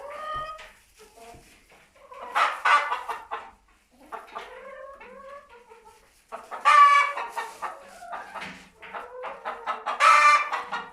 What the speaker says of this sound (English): Does anybody know how many hens are in here?